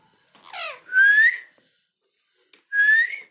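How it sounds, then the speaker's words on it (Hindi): A pet parrot whistles clearly in three rising, tuneful phrases, close and loud, each separated by short pauses and a few faint clicks. "देखिए सीटी बजाता है शानदार"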